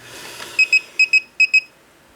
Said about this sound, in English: That alarm was to indicate that all these are filled.